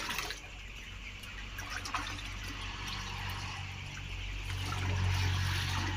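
Milk, water and poultry vaccine mixture poured and trickling into a tub, a close, steady liquid splash with chicks or hens faintly audible in the background.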